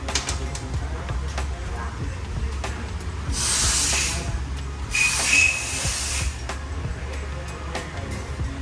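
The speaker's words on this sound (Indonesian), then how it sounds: "Nanti kita akan lihat semprotannya seperti apa." Two distinct hissing bursts of spray come from a fuel injector nozzle, each lasting about a second, loud and close above a steady low background hum.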